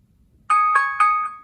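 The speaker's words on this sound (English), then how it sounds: "we got the alarm sound" A Motorola Moto G Power (2022) phone alarm beeps in quick repeated tones, about four bright chiming pulses in a steady rhythm, loud and clear against silence.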